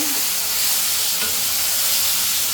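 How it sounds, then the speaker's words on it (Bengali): Chili, cumin and coriander powders fry with a little water in a pan, making a loud, steady close-up sizzle and hiss that runs unbroken throughout, with no voices. "একটু জল দিয়ে ভালো করে কষিয়ে নিব"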